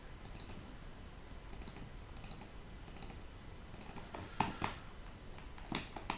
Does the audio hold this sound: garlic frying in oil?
no